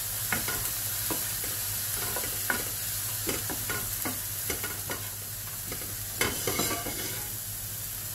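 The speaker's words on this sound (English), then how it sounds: "I've just washed my fennel and I'm going to drop that all in like so. Give that all a stir." Washed fennel drops into a hot oiled pan and sizzles steadily, with repeated scraping stirs and spoon knocks over a constant frying hiss; no talking.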